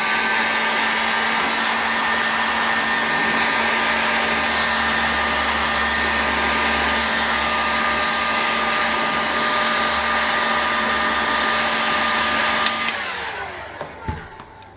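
Heat gun warming a model engine crankshaft: a loud steady hair-dryer-like blowing hum with a constant whine, running unchanged for about thirteen seconds before switching off with a brief clatter, no talk.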